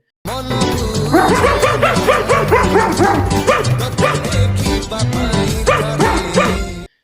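A dog barks in rapid, repeated yips and bow-wows close by, a loud, dense run of barking that fills nearly the whole stretch without pause.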